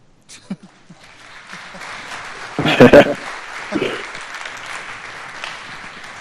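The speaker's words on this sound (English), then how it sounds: "I think he needs to take applause first" Applause after a talk at a blockchain meetup in Munich, a moderate round of clapping from a small audience that swells briefly with a louder burst and then carries on at a lower level.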